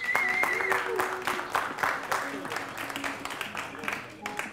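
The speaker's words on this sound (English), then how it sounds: "Give yourselves a big round of applause" An audience at an ICO investors' pitch event claps in a broad, steady burst of applause, with a few whoops and voices mixed into the clatter, fading somewhat toward the end.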